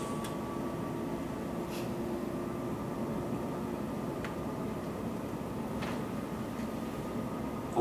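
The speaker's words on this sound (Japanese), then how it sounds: "ヘリコプターはチェルノブイリ原発から汚染地帯が広がる北の方向に向かいます。" A helicopter flies north over the Chernobyl contamination zone, its steady broadband cabin drone and rotor noise continuous and loud throughout, with no talk.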